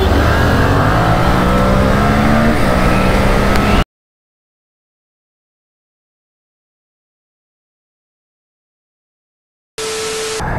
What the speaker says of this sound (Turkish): Motorun hızını denemek için şimdi rol yapacağız